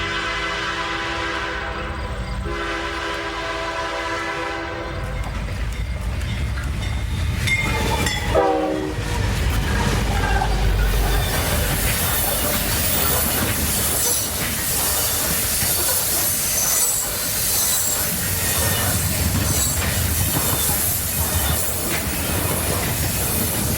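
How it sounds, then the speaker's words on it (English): A loaded CSX coal train bound for a power plant rolls fast past a tobacco farm in rural Kentucky, opening with a horn blast before a loud, steady roar of wagons rumbling and hissing close by without pause. "A loaded coal train, U514, destined for the power plant at Carrollton, Kentucky, wastes no time as it rolls south through Sparta,"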